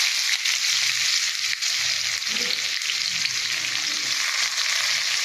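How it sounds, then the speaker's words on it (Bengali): Onion sizzling as it fries in hot oil for a curry, a steady loud crackling hiss that runs unbroken with faint stirring beneath and no voices. "তো বন্ধুরা, এবার পেঁয়াজটা দিয়ে দেবো।"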